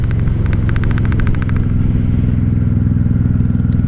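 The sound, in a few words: 1995 Honda Shadow VLX 600 motorcycle riding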